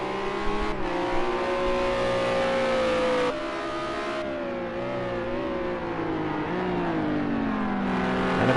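GT3 race cars at full throttle in a racing game at the Algarve circuit, engines screaming steadily with harmonic pitch climbing and dipping through gear changes, loud and continuous with no talk.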